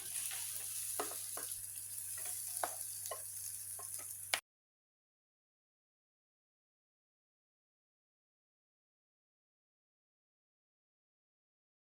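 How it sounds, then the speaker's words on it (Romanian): Cauliflower mixture sizzles in a hot double frying pan, a steady close frying hiss with a few light ticks for about four seconds before cutting to silence. "Am pus o tigaie dubleta la încălzit și voi turna acum compoziția cu conopidă."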